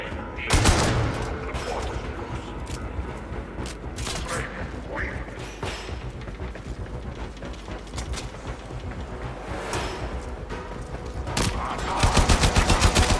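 Gunfire in the video game Warframe, dense bursts of rapid automatic shots and booms, close and loud, continuing almost without a break, with a louder rapid burst near the end.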